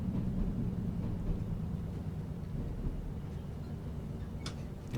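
A steady low rumble and hum from the driver's cab of a Class 153 train in a train simulator game, with faint clicks and rattles over the drone and a brief hiss near the end.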